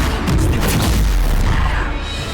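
A Bombarda spell explosion in Hogwarts Legacy erupts as one loud, heavy, booming blast with a deep rumble that sustains and slowly fades.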